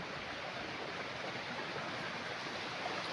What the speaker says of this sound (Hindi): लेकिन पानी चल रहा है